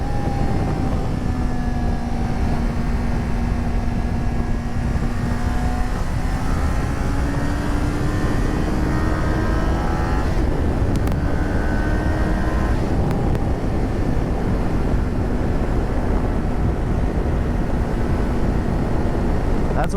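A Kawasaki Ninja motorcycle accelerates through the gears, its engine tone rising steadily in pitch under heavy wind rush, with a brief drop and climb at each shift, loud and close throughout.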